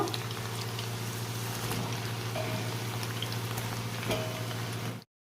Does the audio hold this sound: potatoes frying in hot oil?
yes